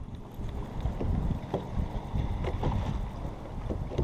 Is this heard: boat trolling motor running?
yes